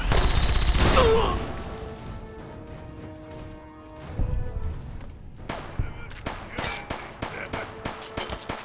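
Gunfire and explosions from a grenade launcher in a Tale of Two Wastelands video game fight, with a loud burst up front, then scattered shots and impacts that fade and pick back up.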